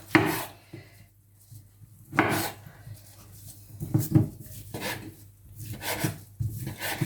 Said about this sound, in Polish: większe kawałki mięsa rozdrabniamy, kroimy na mniejsze kawałki